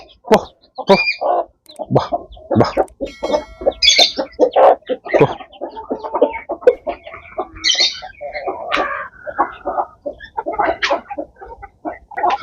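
Hens and chicks cluck and cheep on a poultry farm, a busy run of close clucks and thin chirps with a few louder calls, and someone talks over them.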